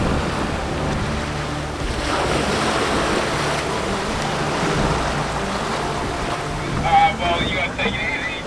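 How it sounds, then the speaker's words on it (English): Continuous rushing water and heavy wind noise as a 34-foot sailboat surfs ocean waves at 11 knots, a steady roar with a brief swell of sound near the end. "One of those waves I was just filming got us up to 11 knots."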